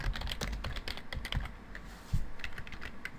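Close, quick typing on a computer keyboard while entering text into a WordPress website, an uneven run of crisp key clicks with a few heavier taps and no talk.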